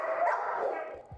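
A dog barks at an animal shelter, a single short muffled bark, fairly close and moderately loud, ending abruptly.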